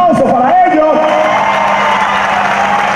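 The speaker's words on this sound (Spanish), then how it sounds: "Un fuerte aplauso para ellos." Crowd cheering and whoops mixed with applause at a festive celebration, a loud shout rising over the clapping at the start before settling into steady crowd noise.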